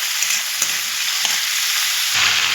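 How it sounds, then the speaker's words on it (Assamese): Onions, green chillies, potatoes and chickpeas fry loudly in a kadai, a dense, close sizzle with a couple of faint stirring taps and a brief swell toward the end. "পিঁয়াজ আৰু জলকীয়াটো গোল্ডেন কালাৰটো হোৱাত লাগি ভাজি ল'ম"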